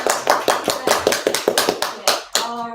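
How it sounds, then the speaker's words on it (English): An audience claps at a monthly announcements gathering, a brief burst of sharp, fairly loud hand claps in an irregular patter that thins out toward the end. "can we get a round of applause for that?"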